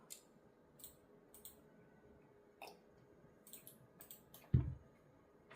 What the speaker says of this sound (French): c'était mon chat qui a joué avec les stylos.